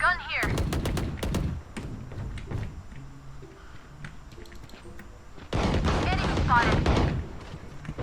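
Video game gunfire, with several bursts of rapid, loud shots in quick succession at the start and more bursts near the end, heard alongside a player talking excitedly.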